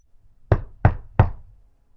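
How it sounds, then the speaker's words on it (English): Three loud, sharp knocks on a door, evenly spaced about a third of a second apart, close by, with silence afterward. "Another loud knock on the door."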